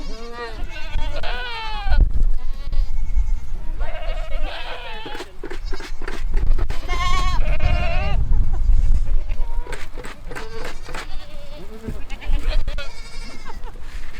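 Goats bleat repeatedly in a loud, wavering chorus at close range, several animals overlapping with short quavering calls, while people talk and exclaim among them.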